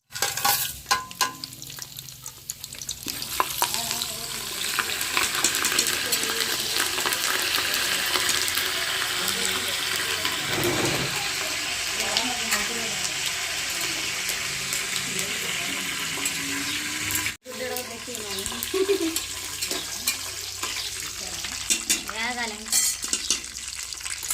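Whole spices, curry leaves, cinnamon, cloves, cardamom, poppy seeds, cumin and bay leaves sizzle steadily in well-heated oil, with scraping stirring throughout and a brief cut partway through; no talking.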